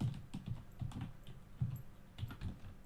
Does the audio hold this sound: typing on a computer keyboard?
yes